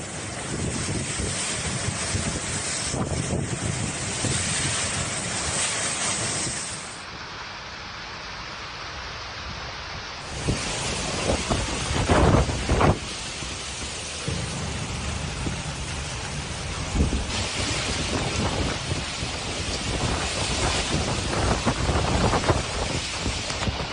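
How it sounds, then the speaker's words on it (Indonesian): Stormy weather in Al-Dairah, Oman: strong wind roars and buffets steadily throughout, with a rushing wash like heavy rain, loud and continuous, with no voices. "cuaca buruk, angin kencang, disertai hujan deras"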